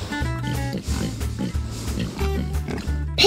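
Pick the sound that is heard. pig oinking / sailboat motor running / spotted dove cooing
pig oinking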